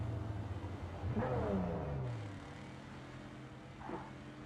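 Engine whooshes of flying vehicles passing overhead in Cyberpunk 2077, a rising and falling pass in the first half and a fainter one near the end, over a steady low rumble.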